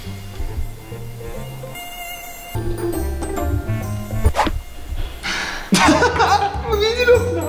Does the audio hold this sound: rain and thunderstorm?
no